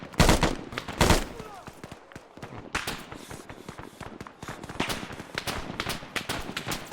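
Rapid bursts of gunfire in the military video game Arma 3, loud single shots followed by continuous fast volleys and scattered cracks throughout, with faint movement sounds underneath.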